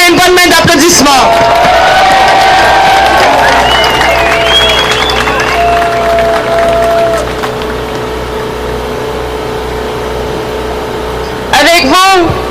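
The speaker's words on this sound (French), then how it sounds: "S'il vous plaît, une bonne main d'applaudissements." Crowd at a Gaza solidarity demonstration in Quebec clapping and cheering outdoors while a voice speaks over a loudspeaker, followed by a steady low hum and a sharp burst of voices near the end.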